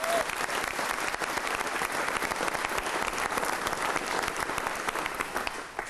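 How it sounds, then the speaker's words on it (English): A studio audience at a motorsport show set in a racing team workshop gives sustained applause, with dense, lively clapping that stays steady and fairly loud throughout. "Give yourself a round of applause."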